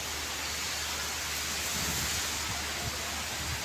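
Steady, dense rain hisses continuously at a moderate, even level during a storm in Bogura, Bangladesh, with a low rumble underneath and no voices.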